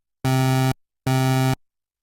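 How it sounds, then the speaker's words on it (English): Two identical synthesizer pulse wave notes stacked from four voices on one oscillator, each a buzzy, harmonically rich tone lasting about half a second, separated by a brief silence. "you get 4 identical waveforms being produced with one oscillator"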